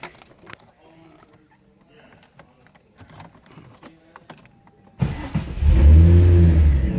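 A Nissan G35 after an automatic-to-manual swap cranks and fires up about five seconds in, its engine settling into a loud steady idle after some quiet clicks and handling noises.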